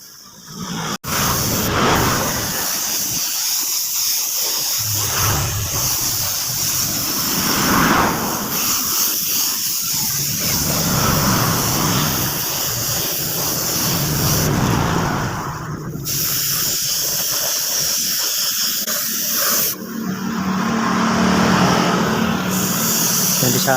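Spray gun applying paint to a motorbike, a steady airy hiss running nearly continuously with brief pauses between passes, close and fairly loud with some background noise.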